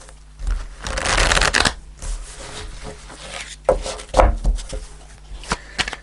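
Tarot cards shuffled by hand in repeated riffling bursts, close and fairly loud, with short pauses between handfuls and a few sharper taps as the deck is squared.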